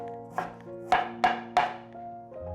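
A knife chops peeled jicama into small dice on a cutting board: four crisp, close chops in an uneven rhythm, the last three louder, over soft background music.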